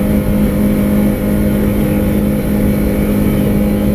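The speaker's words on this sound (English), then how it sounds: "There, it's hitting the rev limiter." A 2019 Osprey 162 boat's engine holds a constant, loud high-rev roar at the rev limiter, with a steady whine over rough rumbling and water noise throughout.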